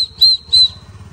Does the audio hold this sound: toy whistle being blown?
yes